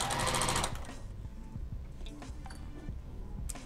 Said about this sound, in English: We're gonna sew on a waistband.